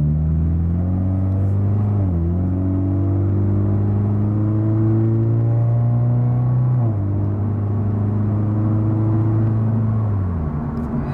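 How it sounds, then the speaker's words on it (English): An automatic Toyota 86 accelerates at a little over half throttle, its engine note climbing steadily, then dropping at each smooth gear shift in a repeated rising pattern, loud and close inside the car. "So let's go and accelerate and you'll hear the shifts are much."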